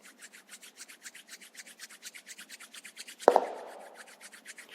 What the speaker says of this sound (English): Rub your both palms together.